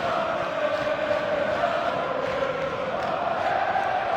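Stadium crowd at a Turkish second-division football match, a continuous distant roar of applause and cheering that holds steady throughout.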